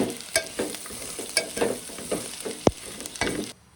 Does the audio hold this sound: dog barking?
no